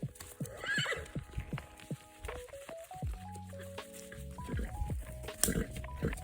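Pony neighing in a long descending whinny amid irregular clip-clop hoof steps and snorts, close by outdoors, with grunting animal noises around it.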